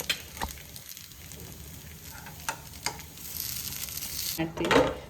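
Paddu frying in oil in a pan gives a steady close sizzle with scattered crackles and soft scrapes of a utensil, swelling louder near the end.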